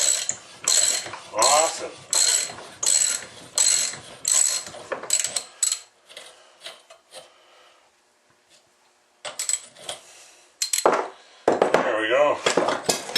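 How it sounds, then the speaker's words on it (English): Hand socket ratchet clicking in quick repeated bursts while a socket is worked off a bolt during an engine rebuild, close and loud, with a short pause midway and a brief spoken word. "I'll work the socket off of there"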